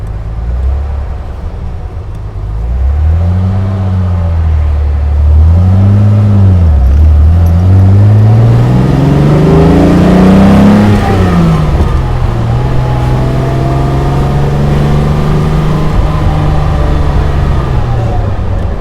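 A 1955 Mercedes-Benz 300 SL driving along a country road, its engine rising and falling through rev changes as it accelerates, loud and close, with a steady running drone in the later part.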